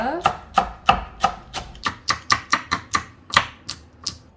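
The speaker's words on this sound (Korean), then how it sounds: "청양고추도 아주 그냥 얇게 이렇게 송송 썰으세요." A knife thinly slices Cheongyang chili peppers on a cutting board, producing about fifteen crisp, evenly spaced chops up close, with no talk over them.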